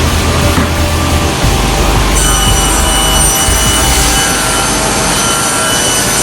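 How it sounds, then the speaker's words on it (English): Sliding table panel saw cutting plywood in a furniture panel shop, a loud continuous machine roar with a whining blade tone that rises partway through, close by and without talk. "This is a sliding table panel saw."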